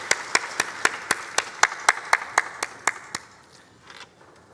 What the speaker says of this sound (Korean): 우리 샬롬과 함께 영광의 박수 하나님께 올려드리겠습니다.